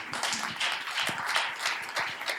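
An audience applauds a venture capital panel and its moderator at an evening event, a dense, steady patter of many hands clapping at moderate volume.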